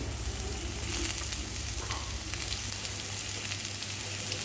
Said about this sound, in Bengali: এরপর উচ্ছে পেঁয়াজটা দেবো আর একটু হলুদ দিয়ে দেবো,